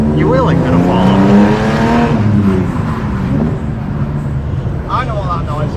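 A BMW E30 M3 driving with a noise from a faulty propshaft spacer; steady road and engine rumble runs throughout, with people talking loudly over it for most of the clip.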